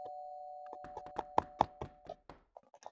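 A series of sharp wooden knocks on a door, about a dozen uneven raps of varying force, heard close over a faint steady electronic tone.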